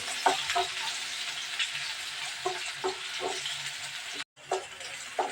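Ginger and onion frying in oil in a pan, with a steady close sizzle and hiss punctuated by repeated stirring scrapes, cut by a brief pause near the end.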